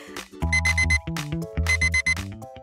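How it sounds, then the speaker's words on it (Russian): An electronic alarm clock beeps in two loud bursts of rapid repeated tones, close and insistent, with no voices. "Тише, будильник."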